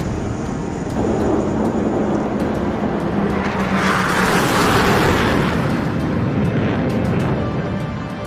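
A military jet, a carrier aircraft fitted with advanced radar and targeting pods, roars steadily and loudly throughout, its broad engine rumble swelling toward the middle as it passes.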